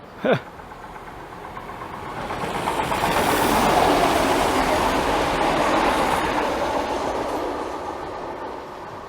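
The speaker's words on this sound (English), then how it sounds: "Look, there's a train" A train rumbles past near Rockstone Bridge on the Exe Trail, swelling to a loud, steady roar with rolling rail noise, then slowly easing off; a brief sharp squeak near the start.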